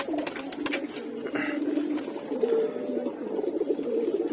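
Pigeons in a loft coo in overlapping, throaty calls close by, a dense continuous murmur with a few sharp clicks and rustles.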